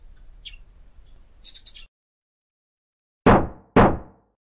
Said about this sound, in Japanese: ドアをノックされたの？